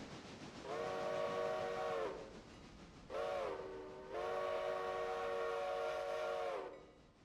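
Train whistle in a railroad simulator game: two long harmonic blasts split by a short toot, loud and clear against a low running rumble, no talking.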